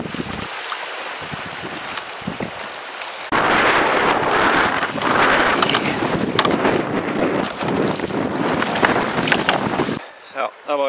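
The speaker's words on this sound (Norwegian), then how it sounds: "en sørøst kuling rett imot kursen, så det er ikke aktuelt å padde" Strong south-east gale wind sweeps across Sølensjøen lake, buffeting the microphone in loud, gusting roars with surging water noise, easing briefly near the end.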